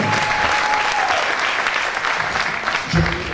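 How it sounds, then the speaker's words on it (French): Church congregation applauding loudly and steadily at a Gospel celebration service in Toulouse, a dense wash of clapping with some voices mixed in, swelling again near the end. "Tu peux acclamer le Seigneur, hein?"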